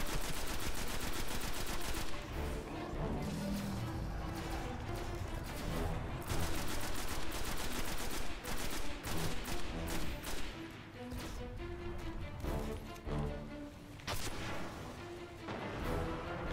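Sustained bursts of rapid automatic gunfire with heavy booms and crashes in the video game Destiny, loud and dense, with a voice talking briefly.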